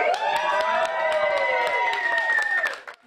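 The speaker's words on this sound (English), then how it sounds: "family and friends were glued to the TV cheering her on" Family and friends at home cheer loudly for sprinter Jenna Prandini, with close whooping voices and scattered clapping that fade out at the end.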